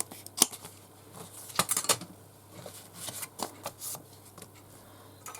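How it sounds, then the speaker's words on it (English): Scissors snip fabric in a quiet sewing setting, giving a few faint, irregular cuts and rustles at close range with no talk. "Let me just cut this and do a little."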